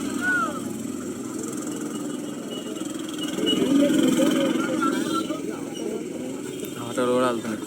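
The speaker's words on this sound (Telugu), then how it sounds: "ఆటోలు కూడా వెళ్తున్నాయి." Passing auto rickshaws on a road near a trek, their engines droning and swelling as they go by, heard under steady nearby talk among friends.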